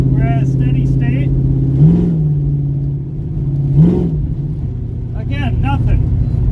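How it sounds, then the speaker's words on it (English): A car engine held at a steady idle hum, rising briefly twice toward 2000 RPM before settling back, heard from inside the car with someone talking over it. "So then we raise the RPM a little and try it again."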